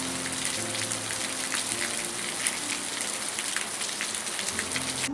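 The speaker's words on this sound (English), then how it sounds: "Recently, it has been raining quite a lot in northern Vietnam" Rain falls steadily on surfaces in a village in northern Vietnam, a dense constant patter with scattered drips, close and even, with no voices.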